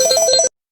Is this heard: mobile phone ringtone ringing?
yes